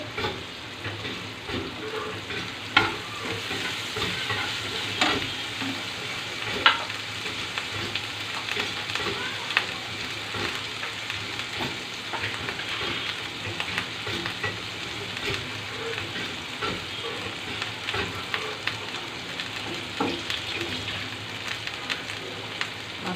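Snakehead fish frying and being stirred in a pan for a braised fish dish, with a continuous close sizzle and intermittent scraping of the spatula, no voices.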